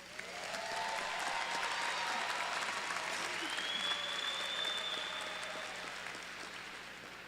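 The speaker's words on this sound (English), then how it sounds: "So I think we should all give ourselves another round of applause for this." Graduates applauding at a community college commencement, a broad crowd of clapping that swells quickly, holds steady for several seconds, then slowly thins, heard from within a large hall.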